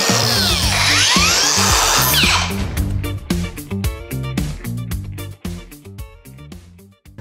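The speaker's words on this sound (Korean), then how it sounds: "세상에서 가장 완벽한 무선 그라인더가 출시를 했다고 해서" A cordless angle grinder with kickback control whines loudly at first, then settles into a rhythmic series of clicks and short bursts as it is handled, close and without talk.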